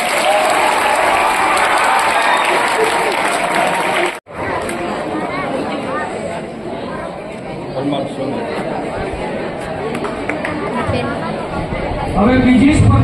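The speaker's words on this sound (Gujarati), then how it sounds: "જોરદાર તાળીઓ પાડજો" A crowd at a school art festival in Chorwad breaks into loud, sustained applause after a prize announcement, mixed with excited chatter. A brief pause comes before the clapping and murmuring continue.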